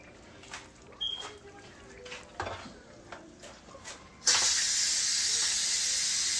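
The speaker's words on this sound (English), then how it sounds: "we're letting that pressure cooker release" A pressure cooker venting steam for beef, bean and beer chili: quiet kitchen clatter and faint clicks for a few seconds, then a sudden loud, steady hiss of escaping steam that continues to the end.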